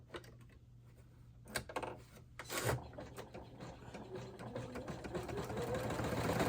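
Embroidery machine stitching the remaining seam of a small in-the-hoop wallet, a soft steady mechanical whir with faint ticking, a couple of brief clattering knocks early on, then a rising hum of continuous stitching.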